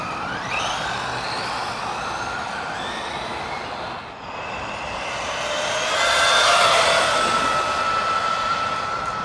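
A radio-controlled car on a 150 amp ESC and 4S battery makes a speed pass outdoors, its whining motor rising in pitch, dipping briefly and then climbing again, loud and continuous with no voices.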